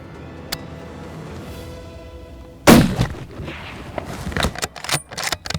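A single sharp rifle shot is fired at a 5x5 whitetail buck in the rolling hills of eastern Washington, a loud crack after a quiet outdoor lull, followed by rustling and handling noises.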